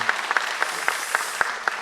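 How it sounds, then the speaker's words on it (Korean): An audience at a church service gives a round of applause. It comes as a thin, fairly steady patter with a few sharper individual claps standing out at a regular pace. "다시 한번 큰 박수 부탁드립니다"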